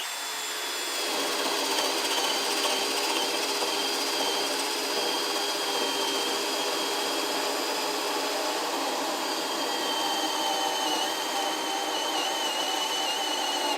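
A DeWalt 9Ah Flex drill on drill mode, speed 1, bores into wood with a continuous loud, steady whine and grind that holds for the whole stretch, close by with no talking.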